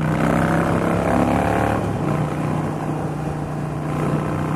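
Harley-Davidson Sportster 1200 with a 240 rear tyre accelerating hard to overtake, a loud, steady engine roar with rising pitch mixed with rushing wind, close up and without talk.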